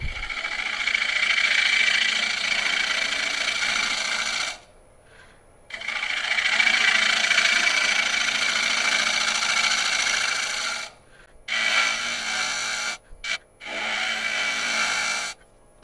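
A wood lathe makes light cuts into a live edge burl, a steady close whirring scrape in long passes broken by brief pauses as the tool lifts away.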